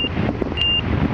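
Stall warning beeping in a Pipistrel Alpha trainer cockpit: two steady high-pitched tones, a short one at the start and a longer one midway, over a constant engine and wind drone.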